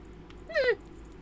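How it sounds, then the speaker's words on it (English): Navi in the Ocarina of Time video game lets out a single brief, high, dog-like whimpering yip over a quiet background. "I didn't realize Navi was the one making the dog noise"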